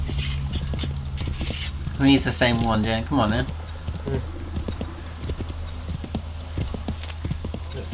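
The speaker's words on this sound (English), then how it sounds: "We now have a different horse." A horse's hooves clip-clop in the game Assassin's Creed 3, a steady rhythmic trot under a voice talking in the middle, with continuous game ambience behind.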